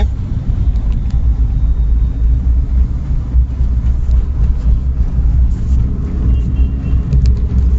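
A car engine runs steadily in a low, continuous rumble just after a gear is engaged, with no voices over it.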